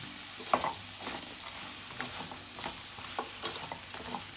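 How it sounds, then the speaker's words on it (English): A spoon stirring chopped potato into lamb and ginger stew in a pot, with soft scraping and clacking strokes at irregular intervals over a low sizzle, fairly quiet and close. "We're gonna give this a mix."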